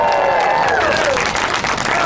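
An audience claps steadily in a brief burst, with cheering voices and whistles rising over the dense applause.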